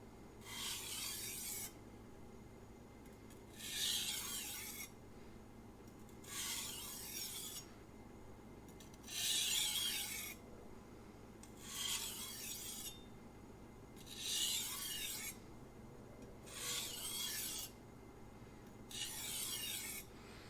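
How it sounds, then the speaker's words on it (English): A knife blade drawn in alternating strokes across a Sharpening Glass 500 whetstone, producing soft, regular rasping scrapes about every couple of seconds with quiet gaps between, close and faint, with no talk. "I'm going to start doing alternating strokes, reducing pressure every time."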